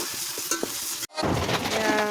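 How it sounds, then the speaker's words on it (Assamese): Water poured into a hot pan of sizzling duck fat: a crackling fry cuts out abruptly, then a loud, close rush of hissing steam and bubbling takes over, with no voices. "এতিয়া পানী ঢালি দিলোঁ বৰ্তমান এতিয়া উতলিবলৈ দিম"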